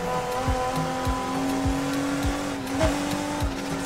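Mercedes C63 AMG in the video game NFS Heat, a steady droning engine note held at speed with tyre hiss and regular thumping beats, loud and continuous.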